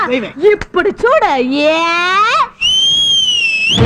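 Someone talks animatedly, then gives one loud, sustained, high-pitched whistle lasting about a second, close by, the kind used to call people over.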